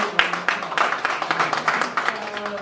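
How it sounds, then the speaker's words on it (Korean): An audience at a speaking event applauds a speaker, clapping in a moderately loud, steady patter with some louder claps standing out, and a little murmuring underneath. "다시 한번 큰 박수 부탁드립니다"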